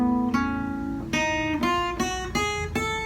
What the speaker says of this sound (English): if we go to the third mode, that's going to be starting on A